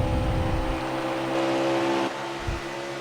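NASCAR Xfinity race cars at Road America: a steady, loud engine drone holds for about two seconds, then cuts lower as the pack passes, with a brief later surge of engine noise.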